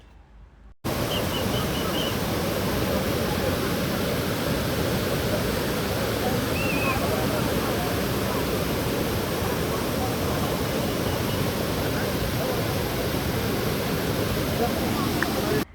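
A jungle stream, the Bokadancha Odha at Andharban, makes a loud, steady wash of rushing water that is heard close by. It starts after a short quiet moment and holds on without a break.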